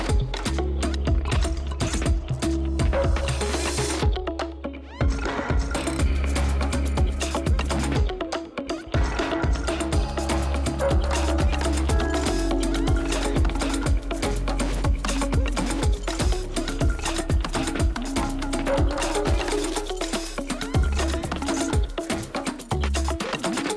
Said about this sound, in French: j'utilise la brosse métallique que j'avais utilisée sur la meuleuse pour traiter la rouille en haut